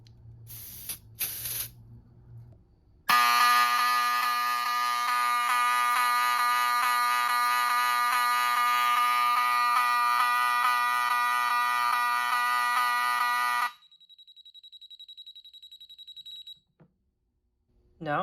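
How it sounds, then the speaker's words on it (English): A Fire-Lite Miniscan 4824 fire alarm panel sounds continuously for about ten seconds with a loud, steady electronic tone. Before it begins, a few faint clicks are heard. Afterward a quieter, thin tone lingers briefly before silence. "Now there's an alarm on address 10, which is the CPID."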